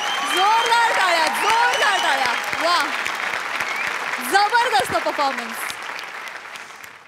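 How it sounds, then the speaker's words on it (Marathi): A live studio audience at the Marathi comedy show Maharashtrachi Hasyajatra applauds loudly after a comedy performance, with sustained clapping while a host speaks over it. "जोरदार टाळ्या"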